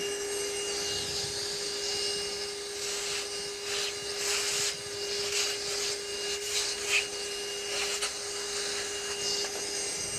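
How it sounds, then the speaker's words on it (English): Vacuum cleaner running continuously in a workshop, a steady whining drone with a constant tone and occasional rubbing, shuffling noises as it is moved over a surface. "I didn't vacuum this."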